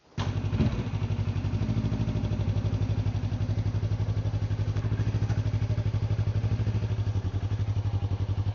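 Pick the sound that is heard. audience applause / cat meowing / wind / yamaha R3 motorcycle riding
yamaha R3 motorcycle riding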